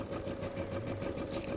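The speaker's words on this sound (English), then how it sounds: "Just doing a little quilting on the dragon wings." A sewing machine quilts fabric dragonfly wings with a steady, faint, continuous motor hum and fast needle rhythm, heard alone and close.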